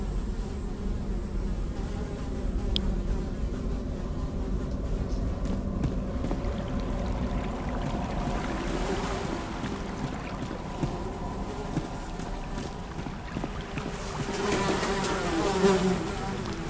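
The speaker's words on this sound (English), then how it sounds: "Despite the buzzing flies, you hear the faintest sound of rushing water that seems to be coming from the farthest hole." Flies buzz steadily and close in a dank dungeon of a party-based video game, while faint rushing water murmurs far off underneath, continuous with no speech.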